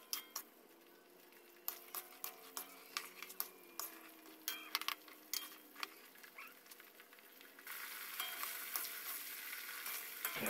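Peanuts frying in oil in a pan while being stirred, a steady low sizzle with frequent light scraping clicks and patter, the frying growing louder and denser toward the end; no talking.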